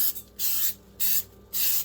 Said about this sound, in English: I want to just give this a good spray down.